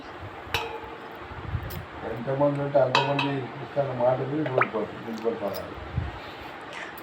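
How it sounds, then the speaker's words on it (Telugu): Mango pickle being mixed with oil in a metal vessel: wet squishing and repeated clinks of a spoon against the pot, with a voice talking over the mixing. "ఆయిల్ వేసుకొని కలుపుకోవాలి"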